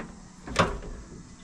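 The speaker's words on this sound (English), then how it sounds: "The door doesn't open all the way." The door of a filthy Toyota car opens with a single sharp mechanical clunk, brief and close, against a quiet background.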